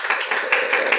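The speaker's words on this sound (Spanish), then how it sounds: "Los muchos aplausos son porque solo somos 5 gentes y aplaudieron muy fuerte" A small audience of about five people clapping for a biologist after her talk, a brief burst of brisk, close handclaps in an uneven rhythm.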